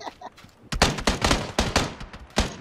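Video game gunfire cracks in a rapid series of sharp, close shots, several bursts packed into a couple of seconds with brief gaps between them.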